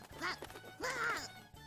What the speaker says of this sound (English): A big white thing, which somehow seemed like a duck, was flapping its wings and flew behind me.